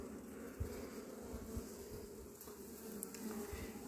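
Honey bees buzz around an open hive during a spring April queen and egg check, a steady close droning hum with individual bees passing near the microphone, no talking.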